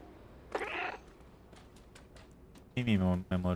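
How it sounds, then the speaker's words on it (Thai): A cat meows outside in the game Stray, a short mewing call early on, followed by a louder voiced vocal that may be the cat or a person, with faint ticking in between. "แมวข้างนอกแมวข้างนอกร้องละเฮ้ย"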